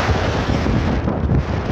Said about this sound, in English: the wind is coming straight from that direction.